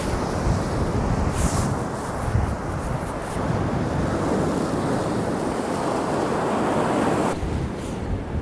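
Ocean surf rolls steadily onto the beach at Assateague Island, a broad continuous wash of breaking waves mixed with wind buffeting the microphone, loud and close throughout with no voices.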